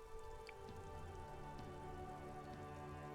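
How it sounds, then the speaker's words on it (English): Steady rain falling on a coast in a video game, a constant soft patter and hiss with no breaks, under a faint low musical drone. "The rain is bleak."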